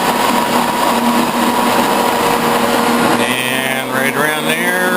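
A metal lathe and a shaper run together in a home machine shop, making a steady, loud mechanical whir with a constant hum and some rising whining tones toward the end.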